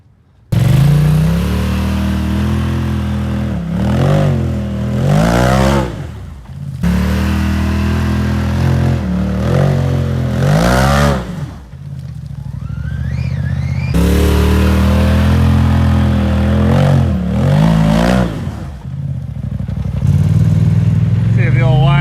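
A Yamaha YXZ side-by-side revs hard off-road in loud, close bursts that climb and fall repeatedly, with brief pauses between surges and a rev-limiter bounce near the end.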